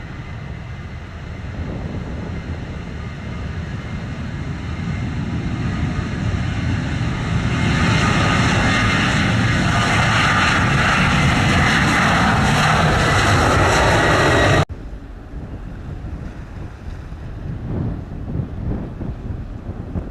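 A United airliner takes off from runway 7 at Montego Bay, Jamaica, its jet engines roaring loud and broadband as thrust builds over several seconds, with wind buffeting the microphone, before the roar cuts off sharply to a quieter rumble.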